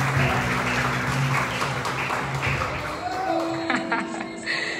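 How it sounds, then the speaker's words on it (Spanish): An audience breaks into loud, sustained applause, dense clapping that carries on throughout, with a few voices and some tones faintly beneath. "Denle ese aplauso fuerte al Padre."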